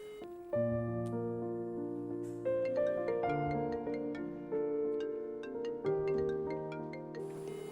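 A phone's melodic ringtone plays on an outgoing call, a series of bright tonal notes repeating in phrases, clear and fairly close, with no talking.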